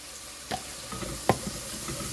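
Garlic frying in oil in a pan, a quiet, steady sizzle broken by two sharp clinks of a utensil, close and without talk.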